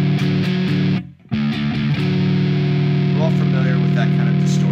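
A bass guitar with a Cycfi pickup in monophonic mode plays a two-note third, the strings interacting into a buzzing, distorted sustained tone, loud and close, briefly cut near the start before ringing on steadily.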